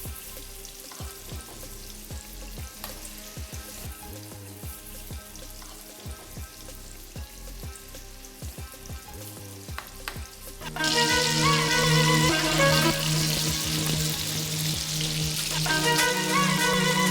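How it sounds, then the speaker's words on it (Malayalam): Shrimp dropped into hot oil in a pan, a quiet crackle with scattered pops at first, then a sudden loud, dense sizzle that holds steady to the end, with no talking. "എണ്ണ ഒന്ന് ചൂടായി വരുമ്പോഴേക്കും ഷ്രിംപ് ഇട്ട് നന്നായി ഫ്രൈ ചെയ്തെടുക്കാം."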